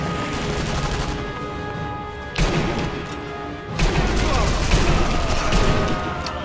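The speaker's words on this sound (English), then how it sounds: "This thing just pumps out bullets." Semi-automatic rifle fire in the World War II sniper game Sniper Elite V2, with loud shots landing at about 2.4 and 3.8 seconds over a dense, steady bed of game noise and ambience.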